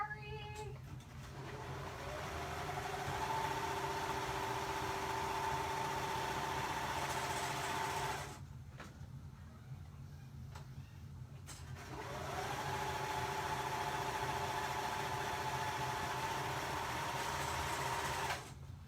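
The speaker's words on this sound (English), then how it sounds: "1 second, my serger's off camera. You'll probably hear it." A serger runs along the raw edge of a side seam in two steady bursts, a fast mechanical whir with a rising tone at each start, separated by a brief quiet pause and stopping at the end.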